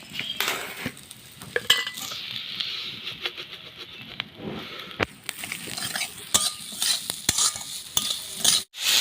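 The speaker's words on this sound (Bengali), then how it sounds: "এবার কড়াইতে দিয়ে ভেজে নেব" Grated coconut and sugar fry in a wok for palm-fruit pitha. A spatula steadily stirs and scrapes with soft sizzling and occasional clinks of metal, close by and with no talk.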